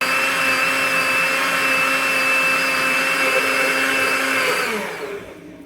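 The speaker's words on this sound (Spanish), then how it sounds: "vamos a añadirla y vamos a licuar por unos 10 segundos más." A blender whirs steadily as it blends a coffee flan mixture with dissolved gelatin, loud and continuous with no talk, before the motor cuts off and spins down at the end.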